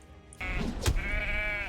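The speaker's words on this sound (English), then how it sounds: "These sheep are trying to get me on the way home." A sheep in the video game Valheim lets out one drawn-out bleat close by, rising suddenly out of quiet game ambience with no talk.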